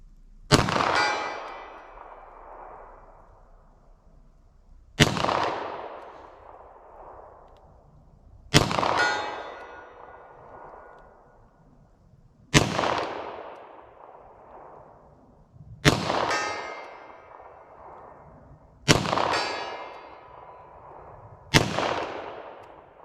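Seven shots of 9mm 147 grain Buffalo Bore ammunition strike a steel target, each a sharp crack and ringing clang that decays over a few seconds, evenly spaced about three seconds apart, with no talk.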